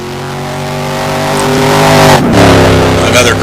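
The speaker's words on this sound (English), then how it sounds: "Paul Hall in the Mad Croc Corvette. Menacing V8 power there." A V8 engine in the Mad Croc Corvette, a GT1 race car in a racing video game at Interlagos, rises in a loud, steady revving drone, then shifts pitch with a brief tire noise, and a voice talks over it.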